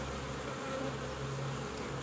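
Honeybees buzz steadily around open hive frames during colony work, a close, continuous drone with no voices.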